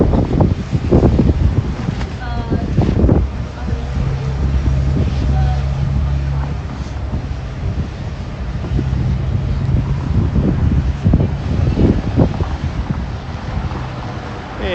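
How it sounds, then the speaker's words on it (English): Strong wind blowing outdoors in Toronto on a city street, roaring and buffeting against the microphone in loud, continuous gusts, with a low engine hum and brief voices in the background. "now the wind is really picking up"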